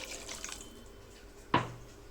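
A single water drip lands in a cooking pot of fish curry with a sharp splash over a faint, steady background hum; close by and brief.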